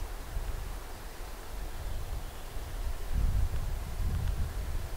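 Wind blows outdoors on a breezy day, giving a steady broadband rush with low buffeting that swells midway through. No voices are heard.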